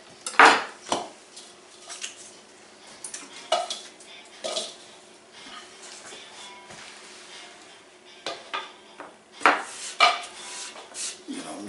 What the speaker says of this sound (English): Mix them up in a bowl.